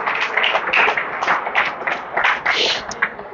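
Church congregation clapping along during a worship service, a brisk, uneven patter of many hands, moderately loud and close, with some voices mixed in.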